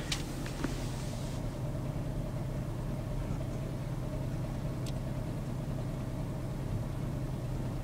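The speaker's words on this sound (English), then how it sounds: "I'll just let it idle here for 30 minutes or so." A 1988 Chevy Nova engine idles steadily inside a small shed, a low continuous rumble with a brief clatter near the start and no voices.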